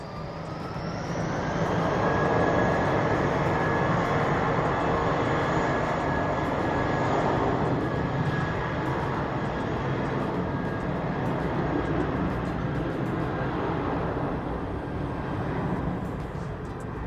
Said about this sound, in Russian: сейчас вроде бы будет взлетать самолет